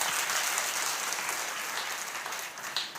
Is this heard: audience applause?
yes